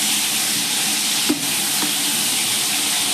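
Onions, green chillies and masala spices fry in a pan, a loud, steady close-up sizzle with a brief clank partway through.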